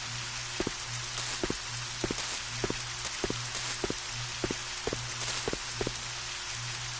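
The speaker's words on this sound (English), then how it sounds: "Rain sounds." Steady rain in the video game Resident Evil: Code Veronica X, with scattered drops tapping a hard surface at a fairly even rhythm, over a constant low hum.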